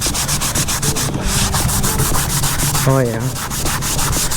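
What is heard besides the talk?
scuffing pad scrubbing old coating off truck interior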